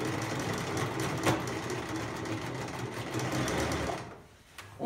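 A home sewing machine runs steadily at a fast, even hum while sewing a straight stitch on fabric for simple shorts, continuous and fairly close, slowing and fading near the end.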